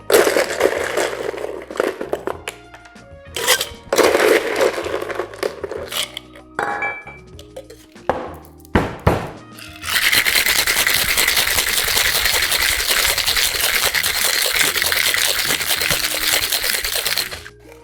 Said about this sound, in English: But I'm gonna shake with that crescent ice.